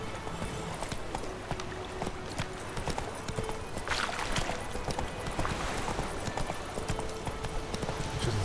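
Rhythmic clip-clop of hooves as a horse gallops steadily over ground in the video game The Witcher 3, close and continuous, with a brief bright rustle midway.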